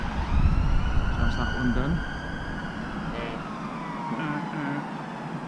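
An ambulance siren wails on a city street, its rising and falling tone fairly loud over traffic rumble, while a person speaks briefly nearby.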